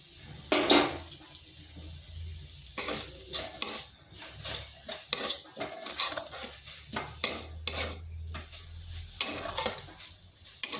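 Five-spice seeds sizzle in a hot pan while being stirred, with repeated scraping and clinking strokes of a utensil against metal over a steady low frying hiss, close and moderately loud with no voices.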